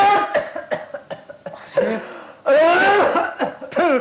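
An old man coughs repeatedly, a run of short, harsh hacks in quick succession, followed by a louder wheezing, strained voice that sounds half-laughing and half-talking, close and dry.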